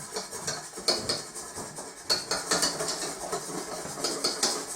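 Whisk scraping and clinking against a pan while caramel is stirred continuously, a steady bright metallic rattle with rhythmic strokes, close and fairly loud, no talking.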